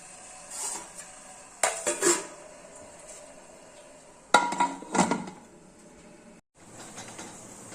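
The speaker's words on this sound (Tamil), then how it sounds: "குக்கரில் சாதத்தை வச்சிடலாம்." Pots and utensils clatter in a home kitchen while rice is set in a pressure cooker, with two bursts of metallic clanks and clinks against a quiet background and no talking.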